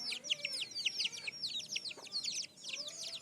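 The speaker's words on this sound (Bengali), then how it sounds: "এই যে মুরগির মা" Mother hen and her chicks at a home, with dense, rapid high chirps and peeps from the chicks running continuously and low hen clucks beneath, fairly close.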